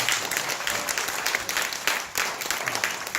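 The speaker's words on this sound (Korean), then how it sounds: "박수라도 한번 해주세요" Church congregation applauding at a 40th anniversary invitation service, steady dense clapping from a crowd filling the room throughout.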